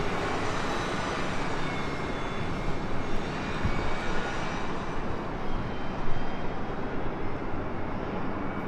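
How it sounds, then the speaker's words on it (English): A Boeing 787-8 Dreamliner jet departs LAX on a north side departure, its engines a loud, steady broadband roar that swells slightly midway and holds with no talk. "the Dreamliner 787-8 Dreamliner heading back to Tokyo Haneda flight 125. Also heading up here for a north side departure"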